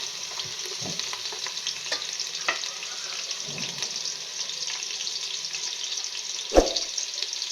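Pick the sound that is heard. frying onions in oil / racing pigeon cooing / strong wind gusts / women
frying onions in oil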